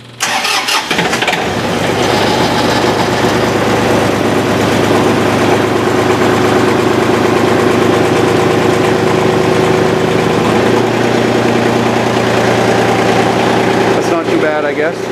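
A John Deere 2520 diesel tractor cranks over on a cold start, catches within the first second and settles into a loud, steady idle with a constant low rumble close by.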